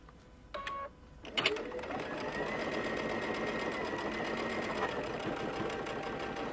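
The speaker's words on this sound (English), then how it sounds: "sew right down 1/4 inch again on both sides" A sewing machine runs steadily, stitching a seam through several layers of fabric after a few clicks and thumps as it gets started, its motor hum close and continuous.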